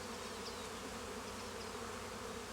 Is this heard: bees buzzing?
yes